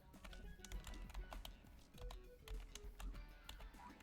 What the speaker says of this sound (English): you'll probably hear the keyboard clacking around too